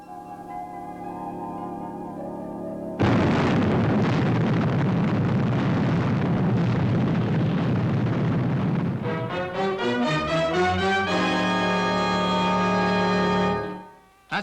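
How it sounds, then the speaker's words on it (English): A booming explosion effect from the Fireball XL5 puppet series bursts in loud and sustained with a roaring rumble, then gives way to a rising, warbling electronic tone before cutting off. No talking. "That's the 7th explosion, Commander Zero."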